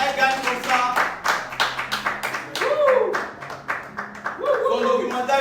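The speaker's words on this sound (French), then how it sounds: "Donc, Ariana, applaudissez pour elle." Audience clapping at a French-speaking award event, sharp hand claps rising and falling in bursts while a voice and music carry on over them.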